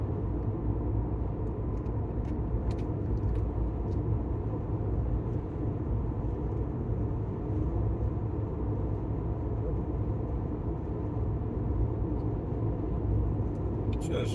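A car cruises along four-lane Highway 100 from Los Fresnos to Port Isabel in Texas's Rio Grande Valley, giving a steady, unbroken low road rumble and engine drone with no break.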